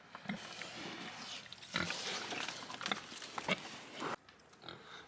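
Pigs in a barn grunt and oink in scattered bursts, a small group of four animals heard fairly close against quiet background noise, with a brief pause before a final grunt.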